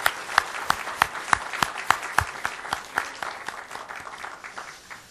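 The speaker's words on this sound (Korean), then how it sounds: "거룩한 주님 앞에 영광의 박수 드리겠습니다." Church congregation clapping during a Korean worship service honouring ordination and retirement, a brisk run of sharp claps at moderate distance that thins toward the end, with no talk.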